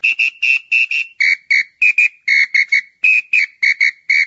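Sharp, shrill referee whistle blasts in quick short bursts, mostly pairs and triplets, loud and close with no other sound.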